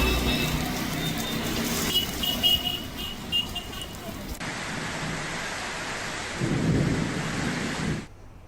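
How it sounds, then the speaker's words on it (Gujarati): A pre-monsoon thunderstorm over Dahod, Gujarat, with heavy rain hissing loudly and continuously while thunder rumbles and booms through it, ending with a surge of downpour. "ભારે ગાજવીજ સાથે વરસાદની શરૂઆત થતાં"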